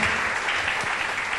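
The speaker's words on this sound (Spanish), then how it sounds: "denle fuerte el aplauso al Señor" Congregational applause fills a Spanish-language church service, a loud, dense wash of clapping that holds steady for the whole moment with no voices on top.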